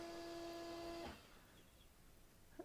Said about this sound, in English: you can hear my printer probably kicking in